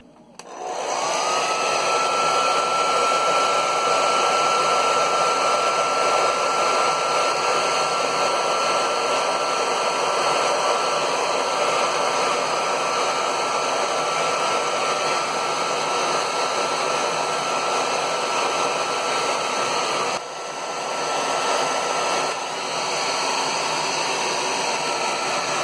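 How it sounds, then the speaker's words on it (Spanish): A hair dryer blows on a Barbie Happenin' Hair doll's hair, a loud, steady, close whoosh that runs almost without a break. Its airflow shifts briefly near the end. "Ahora lo voy a aclarar por completo con el secador."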